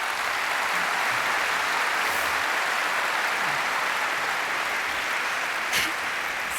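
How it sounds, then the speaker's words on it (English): Sustained applause from a large audience at a 2013 roundtable at Stanford University fills the whole stretch, steady and loud, with a faint cheer near the end. "Let's give them a big round of applause."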